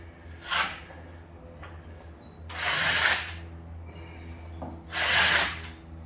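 Scraping of a drywall knife spreading joint compound over a wall crack, three separate raspy strokes a couple of seconds apart, close and fairly quiet with a low hum between them.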